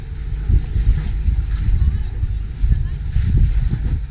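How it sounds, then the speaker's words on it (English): Wind buffets a luxury sailing yacht off Greece, a low, gusting rumble of microphone wind noise that swells and fades close up, with a voice faintly beneath. "Again, with a bit of wind"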